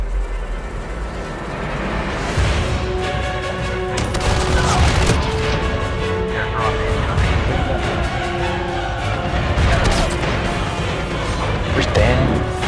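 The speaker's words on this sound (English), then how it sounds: "But however, they keep shooting on me." Gunfire in a mobile shooter game played with B15 and M13 weapons: continuous loud shooting and impacts throughout, with someone talking over the action.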